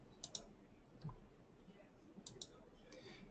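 Mouse clicks in church budgeting ledger software, several sharp light clicks in small clusters across a few seconds, quiet and close, with faint background murmur.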